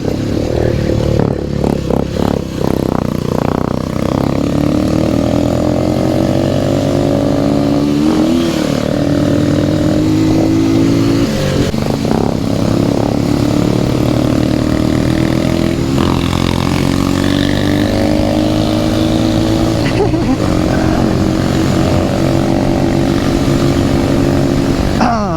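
A Bullet motorcycle rides along a road, its engine running loud and continuous, with a steady throb and rising and falling revs throughout, alone with no talk.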